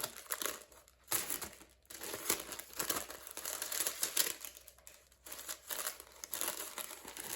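Tissue paper is handled close up, giving a steady run of soft crinkling and rustling with brief pauses and no voices.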